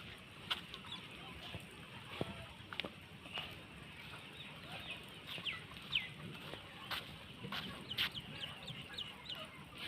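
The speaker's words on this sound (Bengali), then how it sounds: "এই একটা মুরগির ফার্ম।" Chickens cluck in a large poultry farm holding several hundred thousand birds, a faint, distant, continuous chorus with scattered sharper calls.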